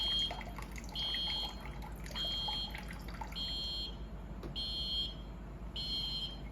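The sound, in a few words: flood warning alarm beeping for forced evacuation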